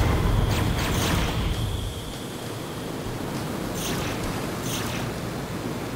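A waterfall in the video game Descent 2 gives off a continuous broadband rushing roar, louder in the first seconds and then settling into a steady wash, with a few faint higher-pitched flickers on top.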